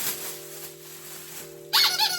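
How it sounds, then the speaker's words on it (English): A vintage squeaky toy elephant gives a short, bright squeak or two near the end, close and fairly loud after a quiet, humming stretch. "little squeak elephant"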